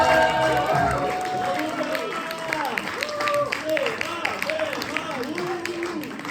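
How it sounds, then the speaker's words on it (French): Concert audience clapping in a university residence hall, a scattered burst of applause that thins out, with someone talking over it and tonal melodic sounds running throughout. "donc on peut les applaudir."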